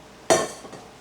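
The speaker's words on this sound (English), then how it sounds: "Now I'm adding the last of my veggies so they can steam and saute down." Vegetables tipped into a big frying pan give a sudden loud clatter and sizzle that quickly fades into a softer hiss, with a faint second scrape just after.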